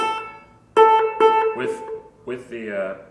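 Slide guitar with the slide pressed fully onto the strings: a few sustained, ringing notes with bright harmonics, played alone and close.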